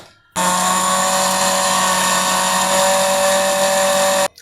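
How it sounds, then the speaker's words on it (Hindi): Electric grinder grinding chaat masala spices with whole black peppercorns, a steady loud whirring motor hum running for about four seconds before stopping abruptly. "ये देखें जी कितना अच्छा मसाला ग्राइंड हो रहा है।"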